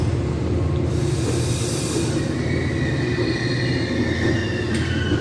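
Train arriving at York station: a steady, loud rumble of rolling rail cars with hissing and a high wheel squeal running across it. No one speaks.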